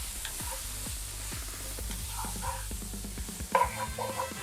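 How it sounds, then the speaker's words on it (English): Rice is stirred into hot oil and spices in a pan, giving a steady soft sizzle with repeated scraping strokes of the spoon and a brief louder clatter near the end, close and with no talk. "So I'm going to stir this in the spices and the oil."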